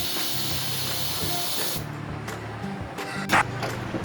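A pressure cooker cooking beef curry with potatoes releases steam in a loud, steady hissing whistle that cuts off abruptly partway through, leaving quieter kitchen clatter and a short sharp clink.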